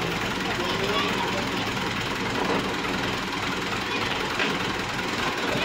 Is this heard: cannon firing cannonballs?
no